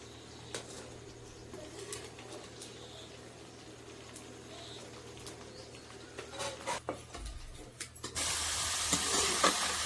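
Vegetable chips fry in hot oil in a home kitchen, with quiet stirring and scattered taps, then a loud, steady hiss of sizzling near the end.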